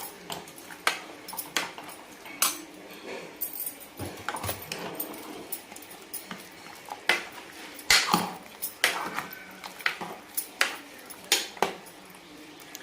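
Metal utensils clink and scrape against a pot as mutton is stirred with hot water, a run of sharp irregular clatters and knocks, fairly close, with no talk.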